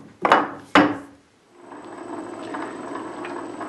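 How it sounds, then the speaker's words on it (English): Hendey lathe: two sharp knocks as the pin is pulled and the back gears clunk into mesh, followed by low steady shop hum. "So I disengage that pin and engage the back gears."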